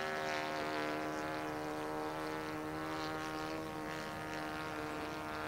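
A radio-controlled 1993 Piper Cub model airplane drones overhead in steady flight, its small engine giving a sustained buzzing hum with slight swells as it passes, fairly distant and alone without talk.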